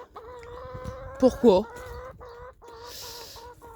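A hen with rooster-like feathers clucks in a series of soft, tonal calls with a louder burst partway through, close by, while a person briefly speaks.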